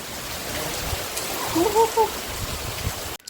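Steady rain pours down in a dense, even hiss, with faint voices briefly rising in the middle before it cuts off abruptly.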